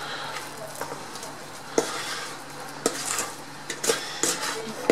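A homemade African black soap mixture being stirred in a pot, soft scraping and occasional sharp clinks of the utensil against the sides over a low background hum.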